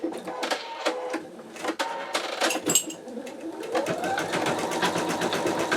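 An embroidery machine stitching through a Sew Tech magnetic hoop, 7x5 size: a steady, loud, rapid mechanical clatter with sharp repeated needle beats, close up, with no talking.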